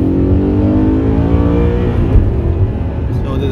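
An Audi R8 4.2 FSI quattro V8 engine revs loudly and close by, its pitch climbing steadily in a smooth high-rpm wail before easing off.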